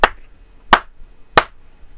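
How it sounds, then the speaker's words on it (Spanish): Three sharp, evenly spaced hand claps ring out close and loud in a quiet room, triggering a programmable clap switch set to turn on a lamp after three claps. "En este caso está preparado para tres aplausos, que encienda la lámpara y con uno que lo apague"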